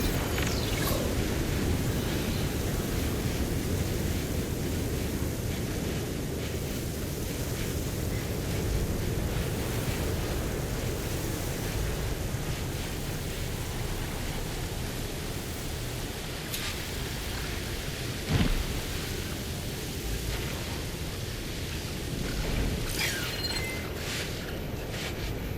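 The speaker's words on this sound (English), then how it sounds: "the storm's whipped up a sand spiral" Storm wind roars steadily in the video game Horizon Forbidden West, a broad rushing gust that swells and eases over a long stretch, with brief thumps and scrapes breaking through.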